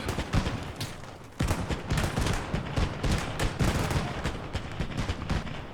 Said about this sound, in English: Let's call in a mortar on them. Let's call in artillery on these guys.